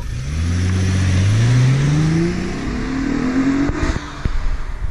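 A 2006 Honda Accord Coupe V6 accelerates while driving, its engine note rising smoothly through the revs and then dropping briefly at a gear change. The engine sounds loud and close from inside the car, with no talk.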